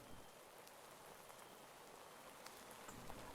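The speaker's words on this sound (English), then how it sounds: "Hear the crickets and the rain." Steady rain falls in Minecraft, a soft, even hiss of drops that runs unbroken and faint with no voices over it.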